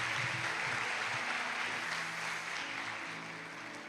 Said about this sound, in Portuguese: Dá mais um aplauso para Jesus aí.